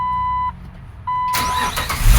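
A 2005 Jeep Wrangler engine cranks and catches, a steady hum giving way to a loud burst of engine noise that settles toward idle, close and with no talk.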